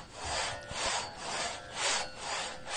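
A two-man crosscut saw bucking an oak log: rhythmic rasping strokes swell and fade in a steady back-and-forth cycle about twice a second, close and clear with no talk.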